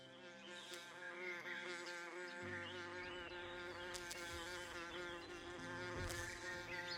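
Wasps buzz around a small wasp nest at an old house, a faint, continuous, wavering drone whose pitch shifts as the insects move about.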